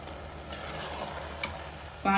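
A steady, crackling sizzle of lentils and beef in a hot pot over high heat, with a brief clink of a utensil near the end.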